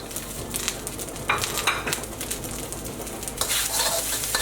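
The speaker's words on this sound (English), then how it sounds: "go in with your gailan" Gai lan stir-frying in a hot wok for pad see ew, a steady loud sizzle with scraping stirs and a few sharp clinks of the spatula against the pan, no talking.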